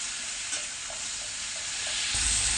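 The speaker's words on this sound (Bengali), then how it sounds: "চিকেনের সঙ্গে পেঁয়াজটা ভালো করে লেড়ে দেবো" Chicken pieces and onion fry in oil, making a continuous close sizzle with soft stirring scrapes, and the sizzle swells louder near the end, with no talking.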